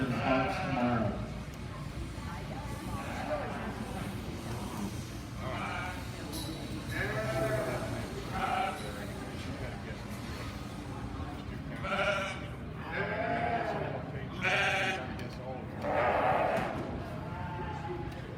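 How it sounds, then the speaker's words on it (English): Lambs bleat in a barn ring during a county fair sheep show, repeated calls rising over a steady crowd murmur and background chatter throughout, with people talking nearby. "To the east side of the ring are Gage and his 3 purchased lambs"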